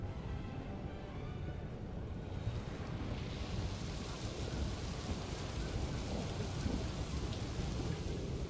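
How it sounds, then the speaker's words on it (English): Thunderstorm in the video game Planet Coaster 2 heard from inside a building: steady, muffled rain and low rolling thunder fill the whole stretch, dampened and continuous with no voices. "when you go inside a building, it sounds like the thunder's outside"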